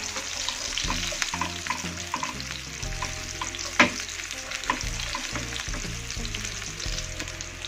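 Salted fish stir-fries in a pan with a steady close sizzle, broken by repeated spatula scrapes and one sharp clack against the pan, no voices.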